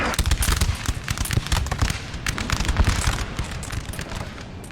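Artillery fire in the video game Napoleonic Total War 3, a dense, continuous barrage of booming cannon shots and crackling volleys with battlefield din, loud throughout.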